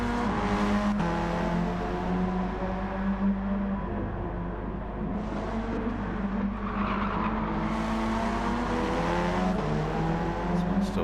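Race car engine in Gran Turismo 7 at Bathurst, revving steadily in the mid-range with early upshifts, a continuous loud drone with faint tire noise beneath.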